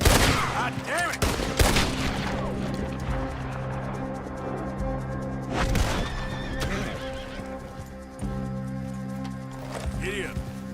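A horse in the video game Red Dead Redemption 2 whinnies loudly near the start and again midway, with hoof clip-clop, bursts of gunfire and a voice around it.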